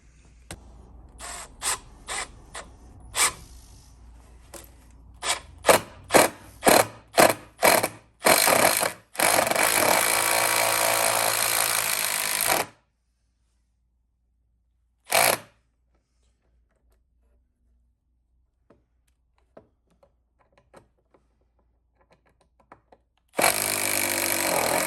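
A Milwaukee M12 cordless drill fires in short bursts, then runs flat out for several seconds, stops, gives one more brief burst, and after a long quiet stretch with small clicks starts again near the end, close and loud.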